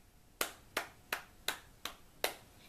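Six sharp hand claps at a steady, even pace, close and crisp, each ringing briefly before the next, with no talking.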